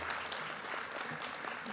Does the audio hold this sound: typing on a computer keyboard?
no